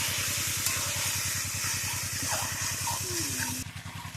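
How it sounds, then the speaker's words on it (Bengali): Chicken pieces frying with spices in a pan, a steady close hiss with a pulsing low rhythmic hum underneath, continuous throughout with no talking. "এই যে মাংসটা কষানো হচ্ছে"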